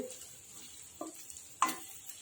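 Potatoes frying in a pan for a bhindi aloo sabzi get stirred, with a faint steady sizzle broken by two short scraping strokes, the second louder and sharper.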